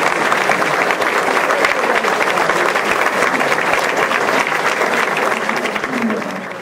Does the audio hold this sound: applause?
yes